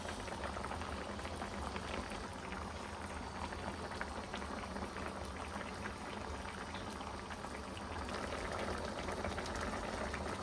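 Pach mishali fish curry bubbles steadily as it simmers in a pot, a continuous, fairly loud boil with dense crackling and popping and no voices.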